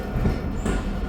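The Khyber Mail train pulls away from a station platform with a brief, steady low rumble of rolling rail cars and a faint high squeal at the wheels.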